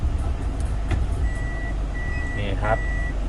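Reversing beeps from a 2004 Toyota Wish 2.0 Q VVT-i after it is shifted into reverse gear, a steady high tone repeating a few times over the low hum of the idling engine, with a voice briefly audible nearby.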